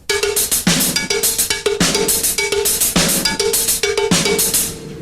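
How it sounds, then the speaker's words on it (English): A drummer's cowbell and hi-hat groove rings out close and loud, quick metallic clanks interleaved with crisp hat ticks in a repeating pattern, accented by occasional deeper thumps on the backbeat, played without any talking. "Let's put the right hand on the cowbell and the left hand on the hi-hat."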